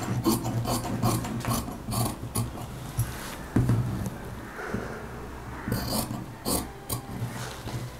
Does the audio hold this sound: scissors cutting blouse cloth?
yes